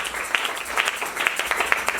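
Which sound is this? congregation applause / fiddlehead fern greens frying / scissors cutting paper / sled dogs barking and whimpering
congregation applause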